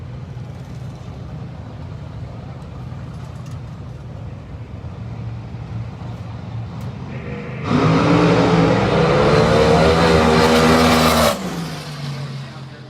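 A nostalgia funny car makes a solo drag racing pass at a March Meet event, its engine exploding into a loud, sustained roar for several seconds over steady crowd and commentary background before cutting off abruptly.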